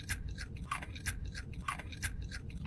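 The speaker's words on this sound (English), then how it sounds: "Crunchy bacon." Crunchy bacon being chewed up close, with repeated crisp bites and crunches in an irregular rhythm over a steady low background rumble.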